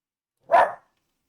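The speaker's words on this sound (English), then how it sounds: "I don't know why my dog is suddenly barking during my stream." One sharp, close dog bark rings out alone in a quiet room.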